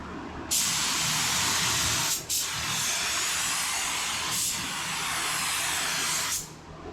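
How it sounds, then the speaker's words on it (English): A spray gun hisses in long steady bursts of clear coat onto a 1959 Apache, fan turned down, cutting off briefly between passes before resuming, close and loud. "I did turn the fan down so it wasn't spraying as wide."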